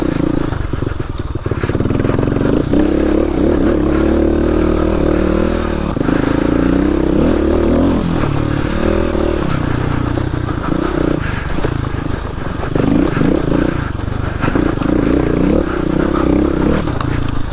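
Kawasaki KLX250S motorcycle ridden over a rocky, rough trail in Moab, Utah, its engine droning steadily and loudly close by, with rises and falls in revs and clattering over rocks throughout.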